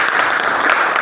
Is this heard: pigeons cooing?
no